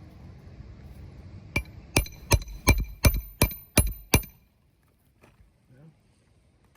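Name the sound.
hammering a nail into roofing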